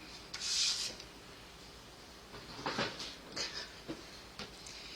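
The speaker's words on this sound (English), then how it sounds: "I'm just going to burnish those so that they fold well" Scored cardstock being burnished along its folds for gate fold cards, a few quiet, close rubbing and scraping strokes with soft taps in between.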